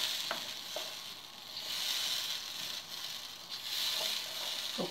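Coconut oil melting and sizzling in a pan, a steady soft hiss that swells and fades, with a few faint clicks of a utensil, close and quiet with no talk.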